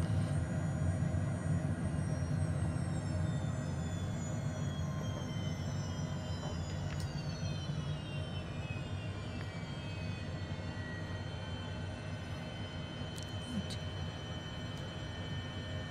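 A HondaJet departs runway 07 in Microsoft Flight Simulator 2020, its jet engines giving a steady, loud rumbling roar with a high whine that slowly falls in pitch.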